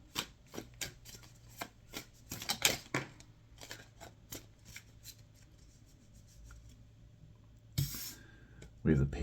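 Tarot cards are shuffled and pulled nearby, with scattered soft riffles, taps and flicks over several seconds, and a louder shuffle burst near the end.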